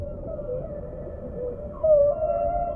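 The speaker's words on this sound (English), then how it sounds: "Sometimes whales use their own sonar, making sounds which can travel many miles" Whale vocalizations underwater in the deep ocean: a low, sustained tonal call that bends in pitch and swells louder near the end, heard alone.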